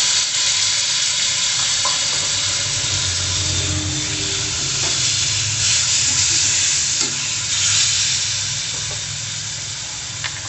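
Chopped onions and tomatoes frying in a pan, a loud, steady hissing sizzle with occasional scrapes and stirs, close up and uninterrupted by speech.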